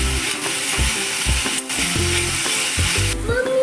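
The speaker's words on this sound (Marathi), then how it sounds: "आलं लसूण पेस्ट घालूया. मिरची आणि टोमॅटो घातला, परतून घेते." Chilli and tomato sauté with ginger-garlic paste as the base of a Goan clam dish, sizzling steadily in the pan under a series of close, rhythmic spatula scrapes and stirs.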